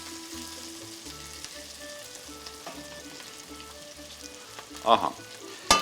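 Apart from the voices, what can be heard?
food frying in a pan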